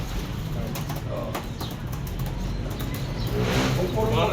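Pigeons in a loft, with soft fluttering and shuffling, occasional low cooing and a few sharp wing claps, while people talk nearby throughout.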